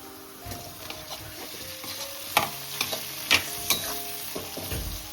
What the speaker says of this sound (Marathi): टॅमॅटो पण मस्त परतून घ्यायचा